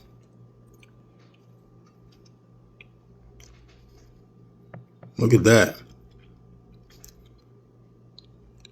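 A single close burst of crunchy chewing on fried flounder, a short crisp bite and squish in an otherwise quiet room, with a brief spoken remark nearby.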